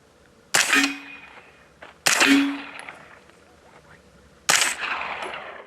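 Three loud supersonic rifle shots from a hybrid CAR-15SD rifle ring out a second or two apart, each a sharp crack followed by a short echoing tail.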